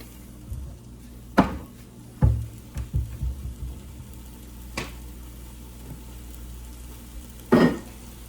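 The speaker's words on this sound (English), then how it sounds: "What you want to do is you want to sear all 6 sides of this meat" A pork roast sears in hot oil in a pan with a low, continuous sizzle, broken by several sharp clanks and knocks of the meat and utensils against the pan. No one speaks.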